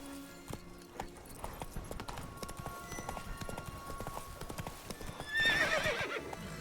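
Roach, the horse in The Witcher 3, gallops with a quick clip-clop of hooves and lets out a loud whinny near the end, with no talk over it.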